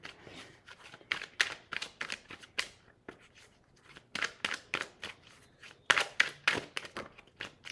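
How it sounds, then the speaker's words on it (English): A deck of tarot cards is shuffled vigorously in bursts of crisp riffling and slapping, with short pauses between the rounds, close and fairly quiet. "I may take a wild shuffle in this because I really kind of want the cards to come out on their own."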